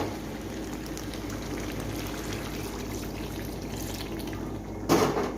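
Water is poured into simmering chicken kosha, a continuous bubbling, splashing wash close by that swells into a brief louder splash near the end.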